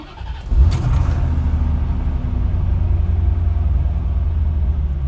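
A C4 Corvette engine cranks briefly and catches, then settles into a loud, steady, rumbling idle close by, with no talking over it.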